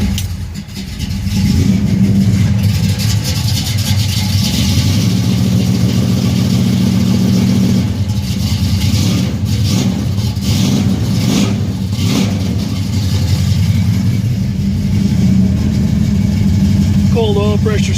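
A 1968 Buick GS 400 V8 on a cool day starts up, revs and settles into a loud, lumpy idle close by, with someone talking over the engine.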